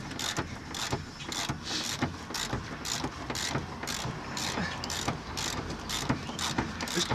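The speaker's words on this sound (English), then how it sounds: "It's a 14mm bolt. Actually comes off pretty easily. Just gotta keep your ratchet going the right way." A hand ratchet loosening a 14mm bolt while stripping a rally car's interior, clicking in a quick, regular run of pawl ticks close by, each stroke followed by a brief pause, with no talking over it.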